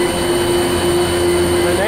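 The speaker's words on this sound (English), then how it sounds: "The smaller motor attached to the main motor drives the cooling fan." Chairlift drive motor with a smaller motor turning its cooling fan, heard as a loud, steady electric whine over a constant rushing airflow, with no break or change.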